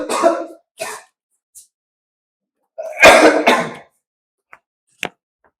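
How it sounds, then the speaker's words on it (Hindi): A close, loud cough burst mid-clip, preceded by a few short vocal sounds and followed by faint ticks, during a math lesson recording. "खांसी आ गई थी, सॉरी।"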